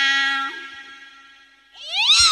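A voice imitates a cat, giving a drawn-out nasal meow that fades, then after a short pause a rising, whining second meow, close and alone.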